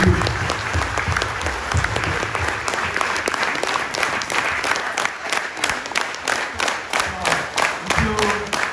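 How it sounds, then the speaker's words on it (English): A crowd at a New Year 2021 company event gives a big round of applause, clapping densely for several seconds. The clapping then thins into a few slower, more distinct claps, and faint voices are heard underneath. "you give a very big clap to you"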